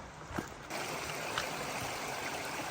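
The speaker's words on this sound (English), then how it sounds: "So we've come upon Justice Creek." Water flows steadily in a mountain creek along the Appalachian Trail, a close, continuous rushing hiss that swells slightly louder after the first moment and carries on evenly.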